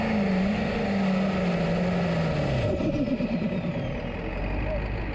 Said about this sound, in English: poo, poo, poo, make cool turbo noises